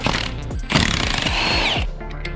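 A Milwaukee 1/2-inch impact wrench on a socket hammers out flywheel bolts on a BMW E46 M3, giving loud, close, rapid rattling bursts that rise and fall over about two seconds.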